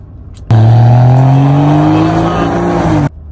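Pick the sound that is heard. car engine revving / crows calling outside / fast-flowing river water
car engine revving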